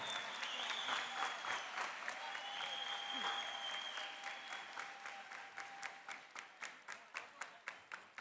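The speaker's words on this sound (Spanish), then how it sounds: "Que se escuche Río Gallegos ese aplauso." Audience applause at a provincial folk dance gathering in Río Gallegos, a dense round of clapping that thins out into slower, distinct individual claps toward the end, with faint crowd voices in the hall.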